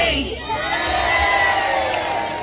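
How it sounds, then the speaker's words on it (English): A large audience cheers at a sea lion show at a safari park, with a loud sustained burst of crowd shouting and children's high-pitched yells, close and dense throughout. "on three, we're going to give him a cheer so he jumps in"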